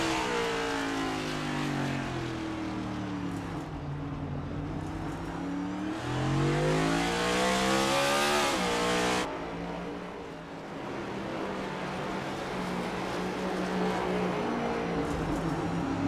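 Race cars roaring past at speed around Circuit of The Americas in a racing video game, a loud continuous engine drone with rising and falling pitch sweeps as cars accelerate and shift, steady throughout with no voices.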